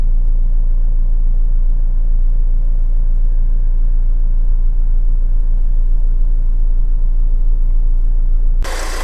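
A Honda CR-V 2.2 i-CDTi diesel engine idles steadily with a deep, loud rumble throughout, cutting off abruptly near the end.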